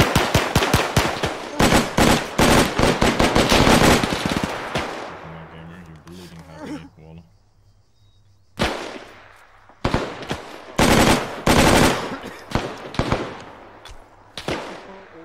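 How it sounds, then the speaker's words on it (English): Machine gun fire in a military operation video game, dense rapid bursts of automatic fire that pause briefly, then resume in loud volleys. "We're getting absolutely pinned down by MG and RPG fire from our northwest corridor."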